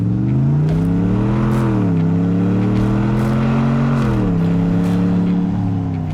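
A RAM 1500 pickup fitted with a cat-back exhaust revs hard, its deep, loud burbling drone rising and falling through several throttle blips, close up and with no talk over it.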